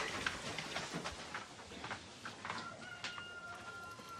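Hens clucking on a rural homestead, scattered soft calls repeating over a few seconds, fairly faint and slightly distant with no talking.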